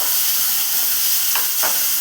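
Tomatoes sizzling loudly in a hot pan with oil, a steady frying hiss broken by two quick scraping stirs.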